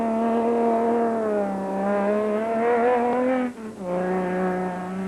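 Toyota rally car in the Limpopo 400 off-road race revs hard and climbs through the gears, a loud close engine whine that dips briefly at a shift before pulling on again.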